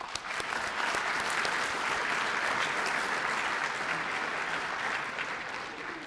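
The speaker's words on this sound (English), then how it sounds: "Big round of applause." Sustained applause fills a senior night celebration for a youth soccer club's graduating class, a steady dense clapping from a gathered crowd that swells and then tapers off toward the end.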